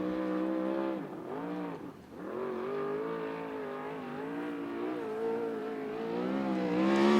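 A USAC Southwest sprint car on a qualifying lap at Central Arizona Speedway drones with a continuous high-revving engine note, dipping sharply once as it lifts for a turn, then climbing again, heard from trackside at moderate distance.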